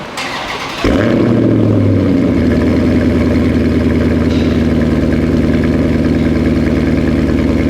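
A Dodge Charger with a newly installed valvetronic exhaust fires up for the first time: a short starter crank, then a sudden loud burst into a deep, steady idle that carries on close and alone.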